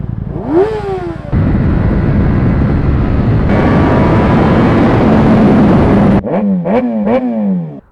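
A Ducati V4 superbike revved hard, opening with a rising blip, then a loud sustained roar at high revs that climbs further, ending in a rapid string of sharp throttle blips, very close and loud.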